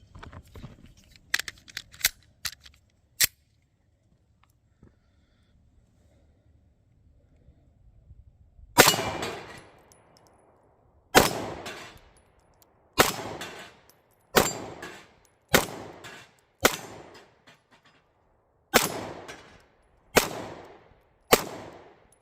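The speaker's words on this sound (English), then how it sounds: "We'll just take some slow, steady shots, see if we can hit those" A Smith & Wesson CSX Micro 9mm pistol fires at bowling pins about 15 yards away, first a quick burst of lighter cracks, then after a pause around a dozen loud, sharp reports at a slow, steady pace with ringing decays.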